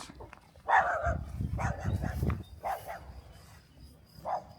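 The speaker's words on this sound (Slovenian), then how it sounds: "Tle je en cucek zelo lajal." Near a small hilltop church with spruce trees, a dog barks several times in short, irregular yelps and woofs at moderate distance, fading to a last single bark.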